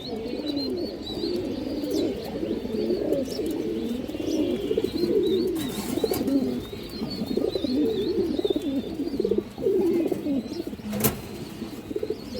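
A pair of red Muslim-tail pigeons, one sitting on eggs, coos steadily in a loft, with overlapping soft throaty calls running throughout and a few faint chirps above.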